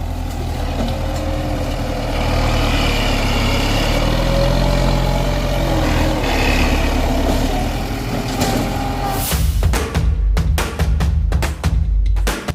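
Six-wheel dump truck on a land-filling job, its diesel engine running steadily with a whining gear drone, then fading into scattered clanks and knocks near the end.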